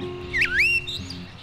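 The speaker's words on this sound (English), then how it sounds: "thrasher, singing from the topmost twig of one of the oak trees" A thrasher sings from the topmost twig of an oak tree on a May morning, giving a short, clear, swooping whistled phrase followed by a fainter note, heard alone over a steady low hum.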